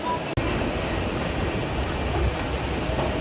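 A train rumbles at a railway station in Ahmedabad, a dense, continuous rolling roar of rail traffic, loud and steady throughout after a brief sharp click at the start.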